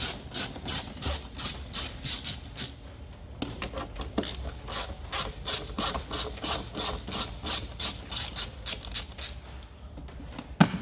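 Two 10mm bolts on the front bumper of a 2006-2012 Renault Clio 3 are undone with a ratchet: steady rapid clicking in repeated bursts, close and fairly loud, with no talking.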